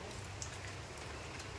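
Rain falling steadily outdoors, a dense, even patter of drops with no voices.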